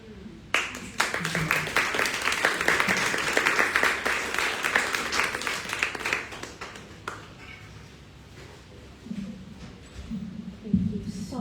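An audience at a poetry and music release party applauds after a performance, a dense burst of clapping that swells, holds for several seconds and fades, with voices afterward.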